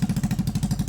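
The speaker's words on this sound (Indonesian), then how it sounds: "Habis ini kita coba hidupin mesin" A Honda Beat scooter engine idles after being started, a low, steady putter of rapid even pulses heard close up with no other sound.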